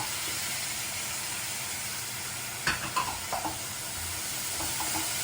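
Soaked moong dal stirred into ginger, green chillies and onion frying in a pan: a constant hissing sizzle, with a few scraping stir sounds from a spoon partway through.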